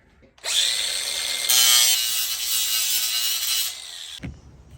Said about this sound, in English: I'm going to just try to grind it with the grinder